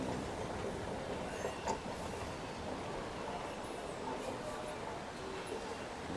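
Inside the MRT Bandar Tasik Selatan station in Kuala Lumpur, a faint, steady rail hum mixes with light clatter and distant murmuring, a low and even ambience.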